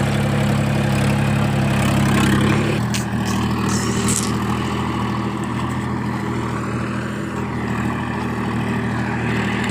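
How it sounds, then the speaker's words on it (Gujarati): A farm tractor heads home after hauling soil from a dam, with shovels loaded on its trailer: a loud, steady diesel drone and rumble throughout, its pitch dipping slightly partway through, with occasional rattles. "તો ટ્રેક્ટર જાય છે ઘરે."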